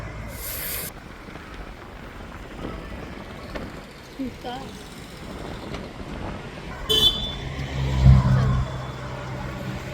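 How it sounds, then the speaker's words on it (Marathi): Continuous low rumble and wind noise of a car moving at speed on the Khandala ghat road toward Lonavala, with a couple of brief horn toots and people talking over it. "आता मी थोडी गाडी चालवते"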